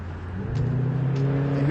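A loud white car revs past at night, its engine drone climbing and growing louder as it nears.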